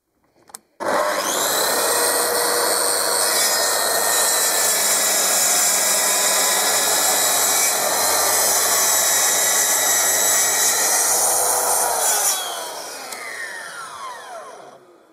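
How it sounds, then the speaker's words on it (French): A Mafell MT 55cc plunge saw fitted with a 24-tooth blade crosscuts wood: a sharp start, then a loud steady high whine for about eleven seconds, dropping off as the motor spins down near the end. "je vais tronçonner donc avec la Muffle, cette fois-ci en installant une lame 24 dents"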